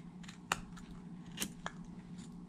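A knife making a pull cut while whittling a small wooden turtle from a kit, heard as a few short, dry scraping strokes close up against a faint steady hum, with no talking.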